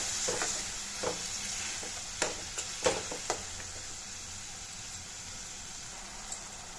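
Tomato paste sizzles in hot oil while being stirred in a pan for prawn thokku. A steady frying hiss runs throughout, with a few sharp spatula scrapes and clicks near the middle.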